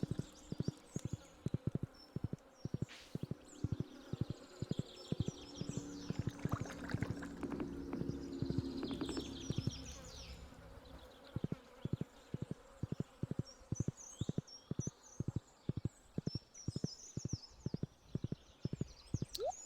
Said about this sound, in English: I'm glad you can just gallop over your crops and not damage them.